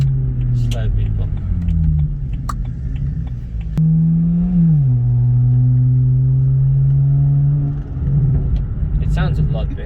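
A single-turbo BMW 335i engine driving on the road, a loud steady low drone that rises and settles as it accelerates, heard from inside the car with people talking over it.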